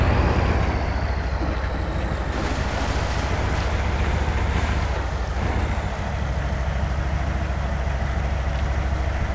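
A vehicle in the video game SpinTires ploughs through water and mud, a steady rumbling engine under continuous splashing and sloshing noise throughout.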